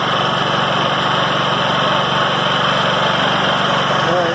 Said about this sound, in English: Alright, so I got the generator going.